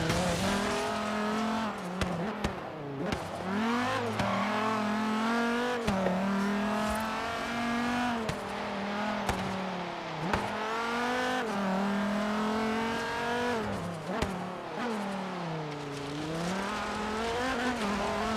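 Racing car in the video game Forza Horizon 3, its engine revving steadily with rising and falling pitch through corners, tires squealing at moments, loud and continuous with no talk.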